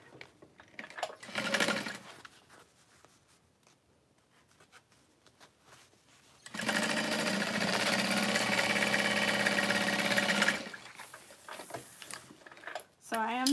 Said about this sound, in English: So I am sewing my lining just a little bit wider, the bottom half, so that it's not baggy